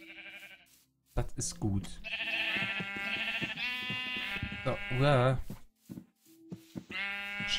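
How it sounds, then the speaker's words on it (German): Sheep bleat in Minecraft, several wavering calls layered over game music, while someone talks throughout. "Hier sind Schafe."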